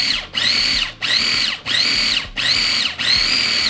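A food processor grinding avocado, coconut oil, vanilla and maple syrup runs in five loud, close pulses, each a steady whirring motor burst separated by brief dips.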